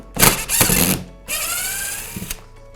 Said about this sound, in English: Just unscrew 4 screws.